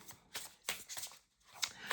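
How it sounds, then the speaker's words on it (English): A deck of tarot cards shuffled close up in several quick riffling bursts separated by brief pauses, soft and crisp. "So let me shuffle this deck and get a message to close out."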